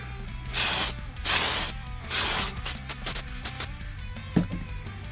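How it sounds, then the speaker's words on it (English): Tamiya TS65 Pearl Clear aerosol sprayed onto a model driver's helmet for a Tamiya Avante 2011 build: three close, steady hissing bursts, followed by light mechanical clicks and rattles of the can and handling. "Now I'll just give his helmet a quick coat of TS65 Pearl Clear"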